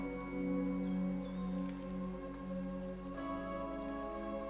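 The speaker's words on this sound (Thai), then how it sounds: "ฝนตกที่หน้าต่างเดียว" Steady rain pattering against a window in a Roblox game, with a low sustained tone and a faint melodic hum underneath, continuous throughout.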